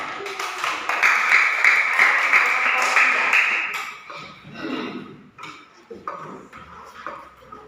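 A primary class claps in a classroom lesson, a lively burst of many small hands for about four seconds that then drops to scattered taps and quiet voices.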